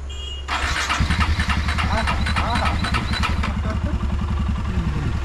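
A motorcycle with a nut that drops off on rides, making it hard to start, cranks and catches, then settles into a loud, rapid putter while voices talk nearby.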